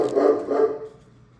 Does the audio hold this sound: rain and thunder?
no